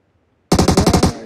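Sudden close burst of automatic gunfire in the battle royale game PUBG, about seven rapid, evenly spaced shots in under a second after a moment of silence.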